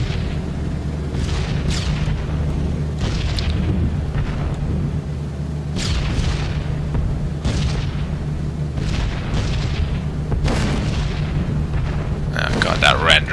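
A B-17 Flying Fortress bomber in a World War II flight game blows apart in a run of deep booming blasts over a steady low engine drone, with several heavy bursts spaced across the stretch.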